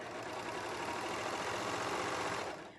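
A serger sewing machine stitching an infinity scarf runs at speed with a steady, fast mechanical whir and rattle, close and continuous, alone without talk, then stops at the end.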